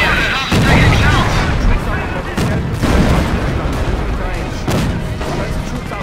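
Artillery fire in Company of Heroes: Opposing Fronts, a World War II strategy game: loud, repeated booming blasts and heavy gunfire bursts over about six seconds, with in-game voices talking beneath the barrage.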